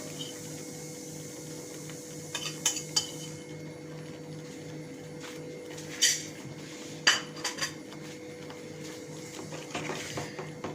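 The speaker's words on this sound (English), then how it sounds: "And we give it a nice mix" Spices stirred into tomatoes and flour in a pan for Sindhi-style masala roti, heard as scattered metallic scrapes and clinks of a utensil against the pan over a steady background hum.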